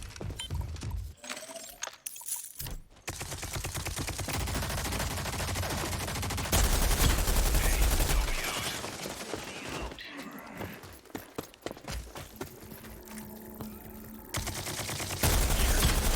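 Rogue Company video game gunfire, rapid bursts from a three-round weapon: dense cracking shots in clustered volleys, loud and near, mixed with other game sounds.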